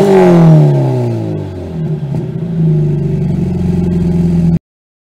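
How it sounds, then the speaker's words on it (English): Supercharged Subaru BRZ exhaust revs loud and close, the engine pitch sweeping up and falling back through several throttle blips before settling into a steady drone that cuts off abruptly. "Here's some audio clips of the exhaust."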